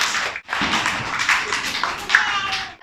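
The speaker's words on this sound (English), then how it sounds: "Clap for Arsalan." Young playgroup children clap together in a classroom for a classmate, a brief burst of scattered, uneven clapping lasting a few seconds.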